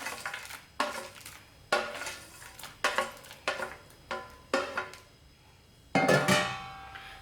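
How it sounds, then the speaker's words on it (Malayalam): Fried cashews and raisins go into a pan of semiya payasam with coconut milk, marked by a series of sharp metallic clinks and scrapes of a spoon against the pan, evenly spaced and close. "ഇതിലേക്ക് നമ്മൾ നേരത്തെ ഫ്രൈ ചെയ്ത് വെച്ച കാഷ്യൂനട്ടും കിസ്മിസും കൂടി ചേർത്ത് കൊടുക്കാം"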